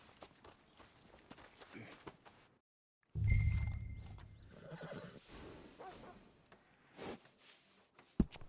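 A workhorse in Red Dead Redemption 2 gives a loud snorting whinny after a brief silence, followed by softer hoof shuffles and snorts nearby.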